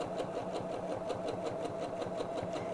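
A sewing machine runs steadily while stitching fabric around a curve for a heart-shaped bag, giving a fast, even mechanical whir with regular ticking pulses, close and continuous with no voices.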